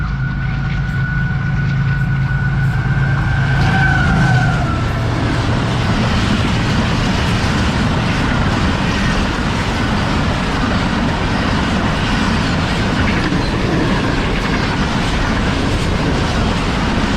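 Khyber Mail passenger train, led by a diesel locomotive, speeds through a Pakistani railway station at about 105 km/h: a steady loud roar of wheels and carriages with rhythmic clatter, a horn-like tone fading early on.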